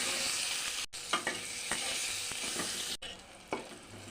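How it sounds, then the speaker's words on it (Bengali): Small brinjal pieces fry in a pan with a steady, close sizzle of hot oil, broken by a few soft stirring scrapes and short clicks throughout. "ছোটো ছোটো টুকরো করে বেগুন কেটে রেখেছি দিয়ে দেবো নুন দিয়ে দিলাম হালকাভাবে ভেজে নেব"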